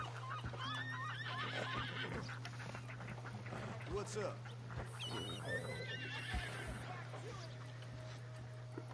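A horse whinnies over soft hoofbeats in a Red Dead game soundscape, with a low steady hum and people talking over it.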